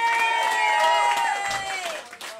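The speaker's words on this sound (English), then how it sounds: "I say give them a nice big round of applause." A crowd applauds and cheers for volunteers on stage at a comedy hypnotist show in Blackburn, with steady clapping mixed with voices and whoops throughout, tapering slightly near the end.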